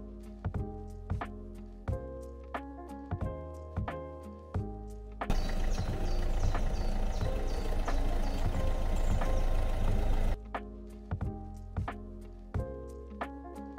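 A car engine runs at low speed as the vehicle is maneuvered toward a trailer for hitching, with steady rhythmic knocking pulses near by and a louder, rougher stretch in the middle.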